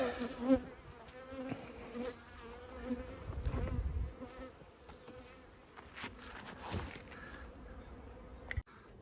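Honey bees buzz steadily around a queen bee during a rescue of the queen and a handful of bees at the hive, a dense close hum with brief louder bursts and handling knocks, no talking.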